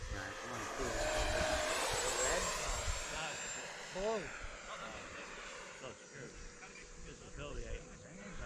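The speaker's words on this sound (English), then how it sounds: "Check out that afterburner." A Freewing BAE Hawk RC jet with afterburner flies at an airfield in Wallkill, a loud whining turbine roar that swells early and sweeps past, then fades, with people chatting close by over it.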